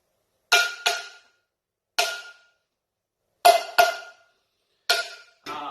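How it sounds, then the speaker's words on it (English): Metal pan struck as a high ostinato, sharp bright clanks in a short repeating pattern of pairs and single hits with silent gaps, played alone and close. "So my high instrument was my pan."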